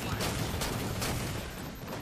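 Halo 4 scattershot firing, a few sharp spread blasts over a dense, noisy wash of multiplayer battle sound.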